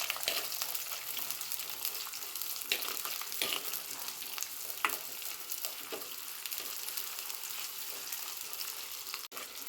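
Chopped onions and two green chillies sauté in hot oil in a pan for a fish curry, giving a constant bright sizzle broken by scattered scrapes and taps from stirring.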